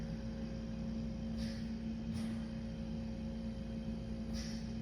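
Steady low hum and whir of an oxygen machine running across a room at home, a constant faint drone with a few soft hissy puffs, no voices.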